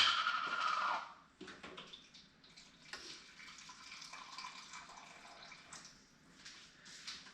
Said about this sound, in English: I'm actually going to put a little bit of water in here as well.